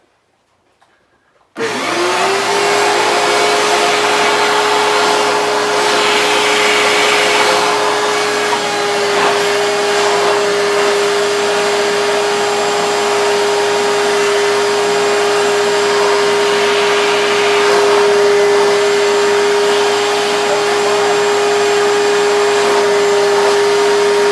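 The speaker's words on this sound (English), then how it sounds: "going to turn on the vacuum" A vacuum cleaner switches on after a moment of silence and runs steadily and loudly, with a constant motor whine throughout.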